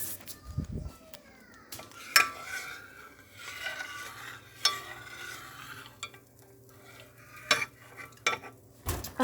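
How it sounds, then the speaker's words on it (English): A spoon stirs a sticky gummy candy mixture in a pot on the stove, with scattered scrapes and clinks against the metal and soft bubbling between them. "And I need to stir it."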